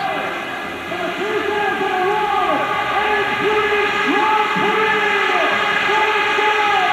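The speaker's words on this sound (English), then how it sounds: "The air horns still holding out." Loud, continuous blaring of many air horns over a roaring stadium crowd at the 2001 British Grand Prix, overlapping tones sustained throughout without a break.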